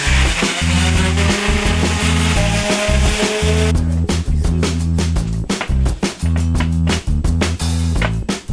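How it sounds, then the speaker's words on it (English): A palm sander works the edges of a wooden toy doll cradle, a loud continuous buzzing hum with scraping grit that shifts and stutters as the sander is moved and briefly lifted, no talking. "I already palm sanded all the edges, both sides of the front. And now I'm working on the back one."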